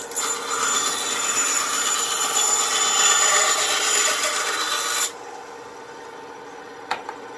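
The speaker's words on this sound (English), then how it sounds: "I'm going to cut off some of these extra pieces here with my bandsaw." A bandsaw cuts scrap pieces off a wooden blank with a loud, continuous high whine for about five seconds, then the blade runs on more quietly, with a brief knock near the end.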